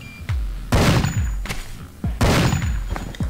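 Desert Eagle pistol shots in Madness Interactive, two loud, sharp blasts about a second and a half apart, each ringing out and decaying, with small clinks and thuds between.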